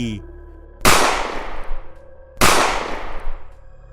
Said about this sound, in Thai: พอสิ้นเสียงปืนสองนัด